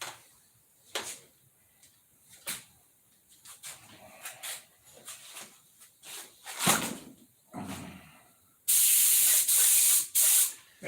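Aerosol spray paint can hissing in bursts of varying length, ending in a loud sustained spray that sputters as the can sucks air, with distant voices and shop noises between bursts.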